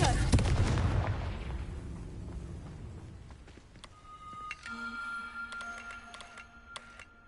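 A Confringo spell in a Harry Potter video game bursts in a loud, booming blast that rolls away into a rumbling decay, followed by faint tinkling magical chimes and small clicks.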